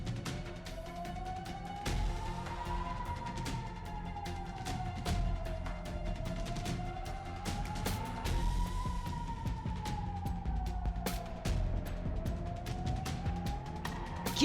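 Air raid sirens in Kyiv wail, rising and falling slowly in long, repeating cycles over a steady low rumble, sounding distant and continuous.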